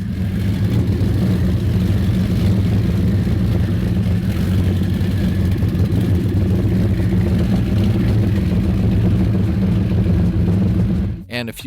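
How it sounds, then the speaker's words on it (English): Loud, steady low engine rumble from stern drive powerboats running close by on Mobile Bay, with a constant drone and slight wash throughout before a brief dip at the end. "a few loud stern drive boats there"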